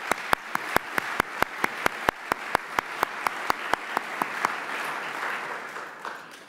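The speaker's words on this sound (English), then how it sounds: "Let's give ourselves a round of applause." An audience at an awards ceremony claps and applauds, the sound building from sharp individual claps into a steady wash of applause that fades out.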